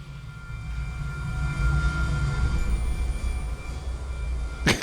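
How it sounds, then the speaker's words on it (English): A jet engine in the game Journey, a steady loud low roar and rumble that holds throughout, ending with a sharp bright burst at the very end. "It sounds like a jet engine."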